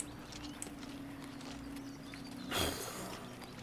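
A black horse courier in a video game trots past with a steady run of hollow clip-clopping hooves, moderately close, under a low ambient hum, with a brief louder whoosh near the end.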